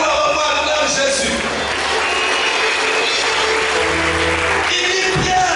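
A church congregation at a Sunday service applauding and cheering for Jesus, a dense, steady wash of clapping and crowd voices sustained throughout.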